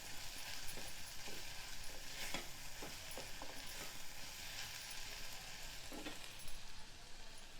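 A spoon stirs ground chilli paste into a vegetable and cowpea curry in a pan, with steady close sizzling and frying under repeated scraping strokes, no talking.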